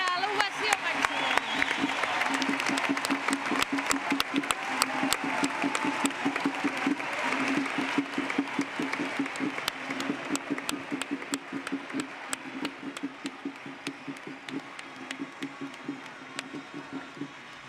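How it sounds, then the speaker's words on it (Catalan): A crowd gives an ovation at the Reus festival, with sustained applause and scattered sharp claps running steadily throughout, and a commentator speaking over it. "I veiem aquesta salutació i l'eufòria, l'ovació màxima."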